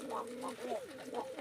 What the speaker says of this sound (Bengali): এই দেখেন আমার কবুতরগুলো কিভাবে খাচ্ছে।